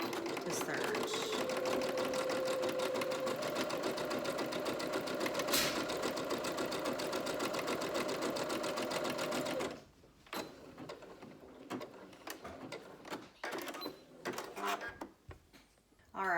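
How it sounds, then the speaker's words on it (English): Serger sewing machine overlocking the fabric edge of a homemade face mask: a loud, fast, steady mechanical whirr runs for about ten seconds, then stops, leaving handling noises and clicks while someone talks. "we're gonna hit the fabric and then go over the fabric to serge"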